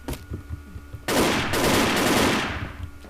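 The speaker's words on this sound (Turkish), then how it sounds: "Şu, şu bombayı atayım." A grenade detonates in the Wolfteam online shooter, a sudden loud blast about a second in that rolls into a sustained roaring burst and slowly fades, following quieter scattered in-game gunfire.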